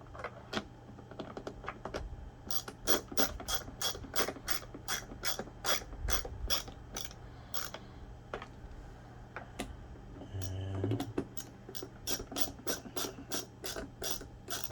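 A screwdriver ratcheting screws into a Bissell PowerForce Helix 12B1 vacuum during reassembly, a quiet, rapid series of close clicking ratchet ticks in steady bursts with short pauses.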